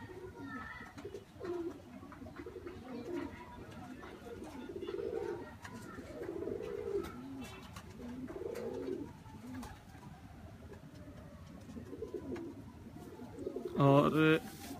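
Teddy pigeons coo in soft, repeated low throaty phrases close by, while people talk over them and a brief clatter comes near the end.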